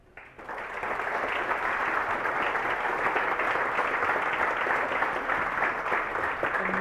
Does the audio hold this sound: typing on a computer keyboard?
no